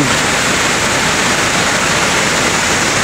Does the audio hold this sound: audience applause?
no